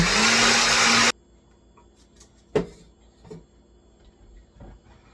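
A loud blender whirs steadily for about a second on the liquefy setting while making pumpkin and carrot punch, then cuts off, leaving quiet kitchen clatter and a few soft knocks.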